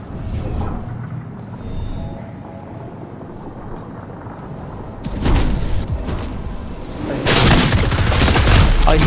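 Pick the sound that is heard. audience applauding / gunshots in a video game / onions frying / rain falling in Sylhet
gunshots in a video game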